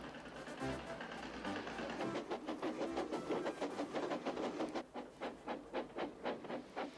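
Steam locomotive chuffing along, a rhythmic series of steady puffs that quickens and grows more distinct in the second half, moderately close with a low rumble beneath and no voices.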